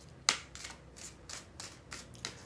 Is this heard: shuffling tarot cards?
yes